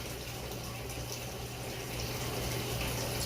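Water poured over a 4.5 g portion of Xiaguan tuo pu-erh tea in a 60 ml vessel for a rinse, a steady, even liquid rush that continues throughout without a break.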